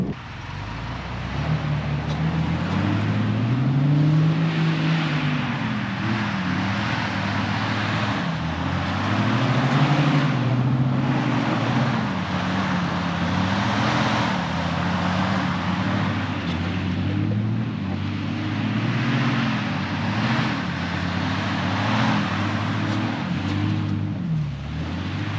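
A Jeep in four-wheel drive pushes down a snowy logging road in the BC mountains, its engine droning steadily and loudly throughout with rising and falling revs, plus road and wind noise and no talking.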